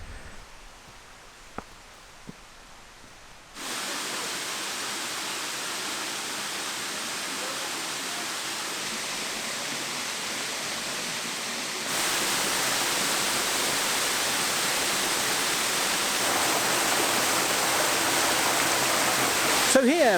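Pwll-y-Wrach waterfall, a pair of falls, pouring in a steady, broadband roar that starts abruptly after a quiet moment with a few small knocks, then grows louder and closer and stays constant with no talking.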